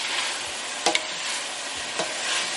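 A spoon stirs white kidney beans into a sizzling pot of pasta e fagioli, with a constant hiss and a couple of sharp scrapes and knocks against the pot.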